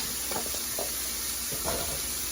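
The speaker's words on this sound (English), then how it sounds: "then saute the onions in there." Onions sautéing in a pan give a steady, close sizzle with a few soft stirring scrapes mixed in; no one speaks.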